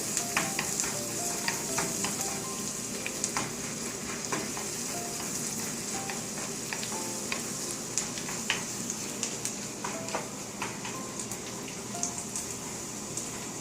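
Chopped garlic sizzles steadily in melted butter in a pan, a close, continuous frying crackle with scattered sharper pops and occasional stirring scrapes throughout, no voices.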